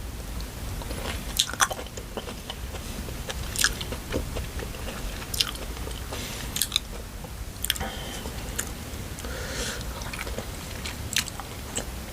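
Close, crisp chewing of blanched squid dipped in seafood sauce, repeated bites and crunchy mouth sounds at an irregular pace over a quiet background, with no talking.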